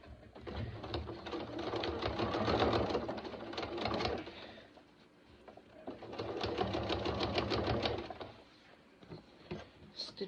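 A sewing machine stitches a lining piece for an AbbyRose backpack, running in two steady bursts of rapid mechanical stitching separated by a short pause, close and fairly quiet.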